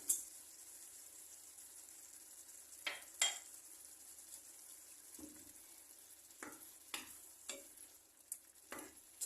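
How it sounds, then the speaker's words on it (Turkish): Washed rice tipped into a pot of cooking tomatoes and stirred, giving a soft steady hiss broken by several scraping stirs and light knocks, with no talking. "Yıkadığım pirinçleri ilave ediyorum."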